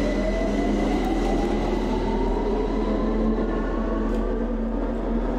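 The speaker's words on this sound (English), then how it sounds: "Same train from before?" A train in the horror video game Lost in Vivo rumbles steadily and loudly throughout, with a deep continuous drone and faint wheel tones, and no voices.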